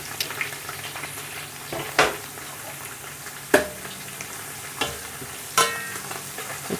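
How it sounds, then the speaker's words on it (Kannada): Bay leaf, mint and coriander frying in about 100 grams of oil for veg biryani, giving a steady hiss punctuated by a few loud, spaced spatula knocks against the pan, close and without voices. "ಚಲೋ ಎಣ್ಣೆ ಫ್ರೈ ಆಗಬೇಕು ರೀ ಫಸ್ಟ್."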